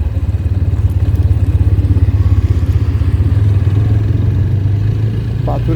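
Motorcycles riding over a rocky, dusty road on a trip to Ajodhya Pahar in Purulia, a loud close engine drone with rapid pulsing throb and rattling clatter from the rough surface, steady throughout.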